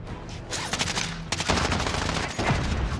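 Automatic gunfire in Call of Duty Modern Warfare Warzone, dense rapid bursts of shots close by and loud, nearly continuous for three seconds with short gaps between volleys.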